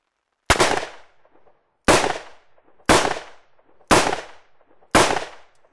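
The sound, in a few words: 357 Magnum revolver shots fired at body armour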